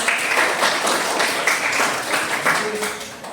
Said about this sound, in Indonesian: tepuk tangan untuk Mbak Ina